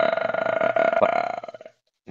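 A man imitates Max Verstappen's burp with his voice, producing one long, loud, croaking belch that rattles on for well over a second before trailing off, close and alone.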